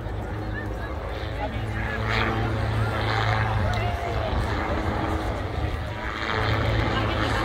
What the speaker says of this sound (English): Plane is fighting that on-crowd wind, keeping it on a true track.